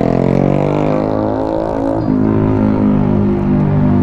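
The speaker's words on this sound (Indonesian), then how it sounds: "Buset dah berisik banget tuh knalpot." Loud motor exhaust roaring steadily on a crowded road at Bukit Pelangi, with engine tone rising and falling as vehicles rev and pass close by throughout.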